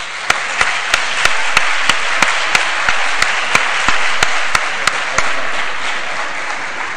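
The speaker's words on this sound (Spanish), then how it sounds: "Un aplauso para ellos." An audience at a school debate competition final applauds the finalist teams in a loud, steady wash of clapping, with one sharp rhythmic clap standing out regularly near the microphone until the clapping starts to fade.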